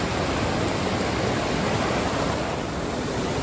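Creek water rushes steadily over rocks at a hiking trail crossing in the Sierra backcountry near Benson Pass, a dense, constant roar close by with no voices.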